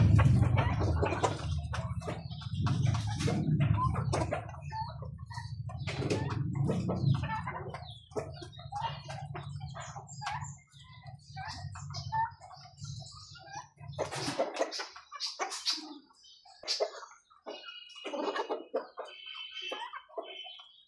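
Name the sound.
chickens clucking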